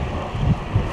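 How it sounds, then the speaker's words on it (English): Strong wind buffets the microphone in low, rumbling gusts, loud and steady with no voices. "It is so windy today."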